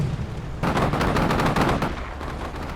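Sustained automatic gunfire in the war video game Combat Mission: Shockforce 2, a loud dense burst of rapid shots that starts abruptly, runs for about a second and a half, then fades into thinner firing.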